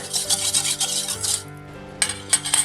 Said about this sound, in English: Whisked until the sugar was well dissolved